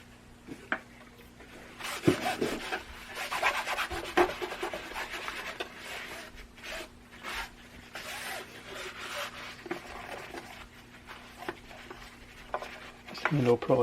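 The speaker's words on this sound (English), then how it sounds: "Looks like a little more scrubbing should be able to clean this thing up nice." Grime gets scrubbed off an Akai M7 reel-to-reel tape deck with close, irregular rubbing and rasping strokes in uneven bursts, fairly quiet, with a few small knocks and handling noises.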